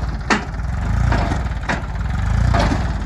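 A tractor with no silencer runs loud and close, a steady chugging engine drone broken by a few sharp bangs from the open exhaust.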